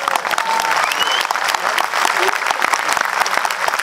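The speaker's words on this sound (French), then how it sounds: "On l'applaudit, hein" Loud, steady applause from a French audience at a live music show, dense clapping filling the whole stretch with voices talking over it.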